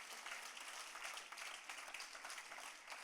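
A church congregation claps together at a Sunday service, a dense, steady patter of many hands filling the space at fairly low level with no voices over it.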